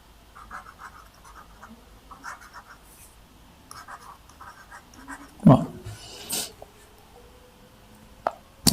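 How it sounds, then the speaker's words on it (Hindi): Pen or marker scratches on a surface while a class 10 IT exam solution is written out, as short, quiet strokes in irregular bursts with a few louder taps and scrapes and no voice. "मैं यहाँ पे लिख देता हूं।"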